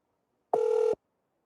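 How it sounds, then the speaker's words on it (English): A single short ring tone from an outgoing phone call being redialed, one steady buzzing burst of about half a second, clear and alone against silence. "I'm going to hang up and hit him with a double dial."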